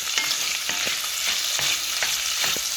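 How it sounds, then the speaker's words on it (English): A spoon scrapes and stirs seared beef for stew in a pot, giving repeated soft scraping strokes over a continuous close sizzle, with no one speaking. "Let me get back to stirring this up."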